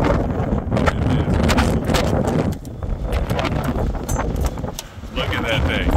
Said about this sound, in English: Never seen it this windy here.